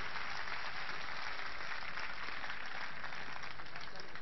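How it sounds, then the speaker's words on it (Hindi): Crowd applause fills the air at an anti-corruption rally on Delhi's Ramlila Ground: a steady, dense wash of clapping from a large audience, held evenly throughout without a break. "मैं चाहता हूं ये सदन पूरा जोरदार तालियों से उनका स्वागत करे"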